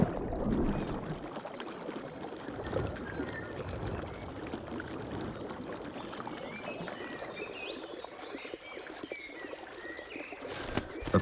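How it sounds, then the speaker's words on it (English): A clean, healthy stream flowing steadily, its continuous gurgle and trickle fairly faint, with occasional faint bird calls above it. "A clean and healthy stream like this one supports a rich diversity of life."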